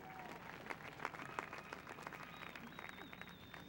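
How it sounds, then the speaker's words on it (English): A graduating class applauds at an outdoor commencement on a cold day, with steady dense clapping from a large crowd and a few sharper claps standing out, heard at a moderate distance with no voice over it. "It's cold. Clap. Warm yourselves up."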